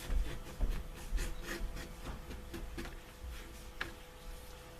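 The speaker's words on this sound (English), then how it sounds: "Just take my edge beveler and run it along there." A leather edge beveler is drawn along a leather edge in short, repeated scraping strokes, a soft dry rasp with small ticks, close by and fairly quiet, with no talking.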